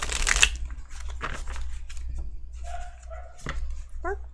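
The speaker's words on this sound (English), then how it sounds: "There's a dog outside. Kind of late for a dog to be barking outside." A dog barks outside at night, a few short distant yaps spread across the moment, faint against a low steady background hum with no one talking.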